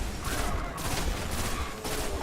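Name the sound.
super ability energy wave firing in video game Destiny: The Taken King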